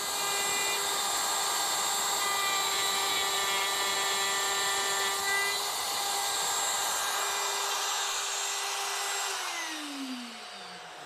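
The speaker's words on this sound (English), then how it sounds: "for this cut, I've got a dovetail bit in the router" A router fitted with a dovetail bit cuts wood along a comb-style dovetail jig, giving a steady, loud high-pitched whine with dense cutting noise that holds for about nine seconds before spinning down at the end.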